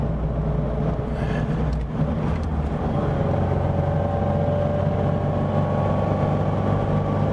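A 1700cc four-cylinder rear engine in a pre-war Tatra T97 drives along, giving a steady, fairly loud low hum and drone that holds throughout with no talk.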